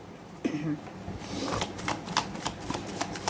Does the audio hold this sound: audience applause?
no